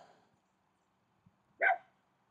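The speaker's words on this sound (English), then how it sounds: "Oh, Milo's barking at the birds." A single short dog bark rings out near the end, fairly close and clear, after a faint brief tap in otherwise quiet surroundings.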